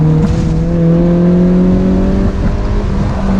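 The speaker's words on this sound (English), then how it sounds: "Now I'm gonna start to apply throttle and track right out, full throttle." A stock Mazda Miata accelerates at full throttle on a track, its engine a loud, close, steady droning hum that holds nearly constant pitch throughout, with no voices.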